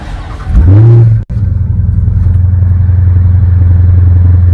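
A 707-horsepower Dodge Hellcat engine barks into a loud rev, cuts out for an instant, then settles into a deep, steady, rumbling idle close by, with no talk.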